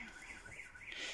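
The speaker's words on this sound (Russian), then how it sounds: "Сигнализация, видимо, на машине включилась." A car alarm goes off nearby in a garden or yard, a steady high warbling electronic siren looping continuously and fairly loud on its own for the whole moment.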